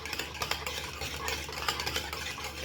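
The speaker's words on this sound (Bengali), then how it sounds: "এবার আর একটু ভালোভাবে কিন্তু ফেটিয়ে নিব" Eggs being whisked with sugar and white cooking oil in a bowl: faint, quick rhythmic tapping and swishing continues steadily throughout, with no voices.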